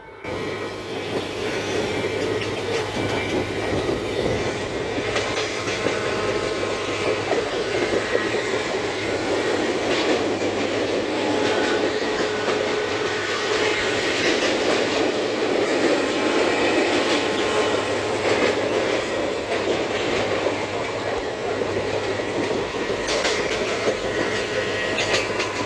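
Steady rumble and rattle fill the interior of a moving Ferozepur–Ludhiana Express passenger coach, continuous and fairly loud throughout with no talking.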